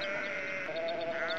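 A sheep bleats in one long, loud, sustained, wavering call that is heard alone, used as a sound effect.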